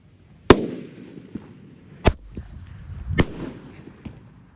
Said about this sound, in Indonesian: Selanjutnya kita nyalakan ini mercon mortar sweet.